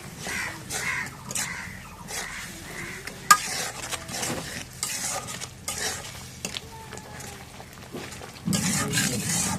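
A spice paste of cumin, ginger and garlic fries in a pan while being stirred, with repeated scraping strokes over a soft sizzle, close by, and crows cawing in the background.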